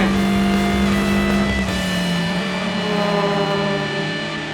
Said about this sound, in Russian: Сергей и Аркадий на своих гоночных болидах «Фланкер» разгоняются и входят в донос